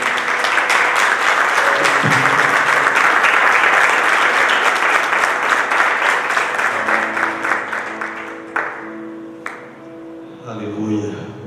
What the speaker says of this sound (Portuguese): Vamos dar a Ele uma salva de palmas em nome de Jesus.